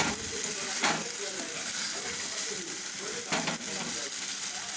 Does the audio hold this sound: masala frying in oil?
yes